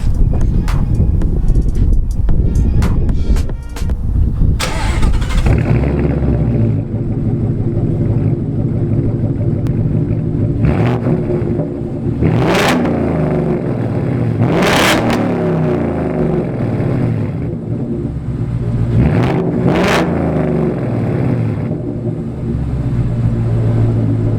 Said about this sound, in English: that is the Flowmaster Outlaw catback that this thing has on it, and I think it sounds pretty good